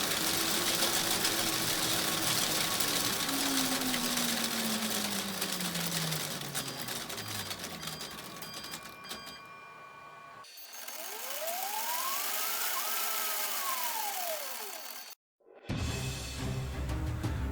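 A 3D-printed tank track and sprocket driven by a hoverboard motor runs on a test with a continuous whirring, clattering mechanical drone and sweeping motor whine, close and steady before cutting out briefly.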